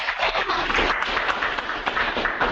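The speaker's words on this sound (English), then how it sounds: "And you just got the clapping of the hands" An audience at a software development conference claps after a presentation, a dense, steady patter of many hands filling the room with no voices above it.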